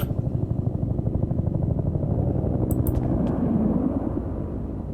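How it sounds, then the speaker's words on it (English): Evacuation helicopter in the Peridium game, a loud, steady low rumble with a rapid rotor-like throb, accompanied by a few brief high clicks partway through. "Is that the evac chopper?"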